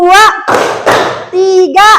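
Children in a classroom counting game clap in short bursts between their own chanted voices, with loud, close claps alternating with the children's speech.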